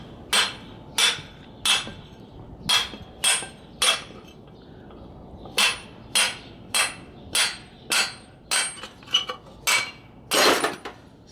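Repeated sharp metallic hammer blows on a car's front wheel bearing ring out, about a dozen strikes at an irregular pace, close and loud with brief pauses between.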